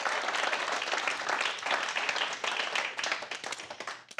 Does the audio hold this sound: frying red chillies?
no